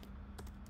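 A few quick keystrokes on a computer keyboard while Java code is typed, short and close-up over a low steady hum.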